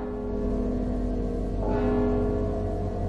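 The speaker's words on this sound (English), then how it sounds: "Don't you hear the bell?" A large bell tolls steadily in the Mark of the Ninja video game, a loud sustained metallic ring with humming overtones that restrikes partway through, alone without talk.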